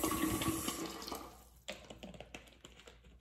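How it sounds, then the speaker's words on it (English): Water runs from a tap into a bottle, a steady faint stream at first, then breaking into softer splashes and trickles with brief gaps as the flow is adjusted. "Filling up my water bottle."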